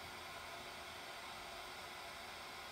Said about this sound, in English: keeping the heat gun next to the fade, not on top of the fade, but next to it